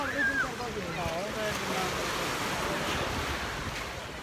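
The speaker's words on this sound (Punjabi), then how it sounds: "ਵੇਖੋ ਵੀ ਕਿੱਦਾਂ ਬੋਟਾਂ ਭੱਜਦੀਆਂ ਵੇਖੋ ਪਾਣੀ ਦੇ ਵਿੱਚ" Sea water rushing and surging near the coast at Port Dickson, Malaysia, as boats speed through it, a steady wash of wave and wind noise throughout with faint tonal sounds early on.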